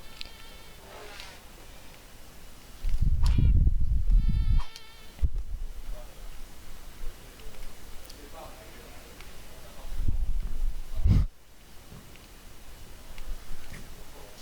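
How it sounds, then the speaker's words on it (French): A mosquito enemy in the Rayman platform game buzzes with a thin whining drone, joined by game music and loud thumping effects, while a player talks over it. "Il est dingue le moustique."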